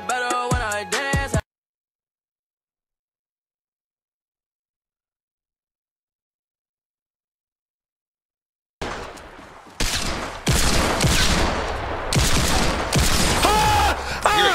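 Fortnite gunfire in rapid bursts from a battle royale match, a short volley at the start, a long silence, then loud, dense shooting with headshot hits.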